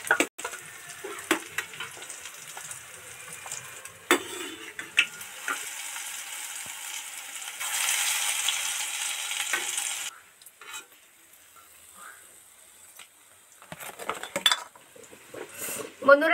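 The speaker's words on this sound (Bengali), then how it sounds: "একটা একটা তুলে নিচ্ছি।" Fried koftas being lifted one at a time out of hot deep-frying oil, with soft sizzling and light clinks of a utensil against the pan, quieting in the later seconds.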